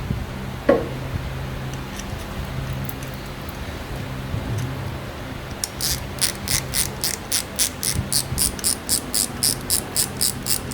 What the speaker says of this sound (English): No, we'll use the small torque wrench